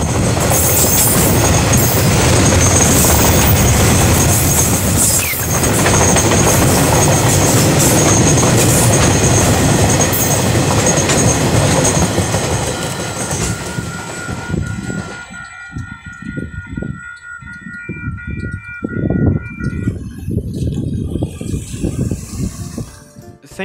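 A KiwiRail freight train on the Kinleith to Mount Maunganui service rumbles past loudly and steadily, its wheels clattering, then fades as the last wagons pull away, leaving quieter, uneven rattles.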